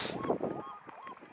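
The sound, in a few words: white goose honking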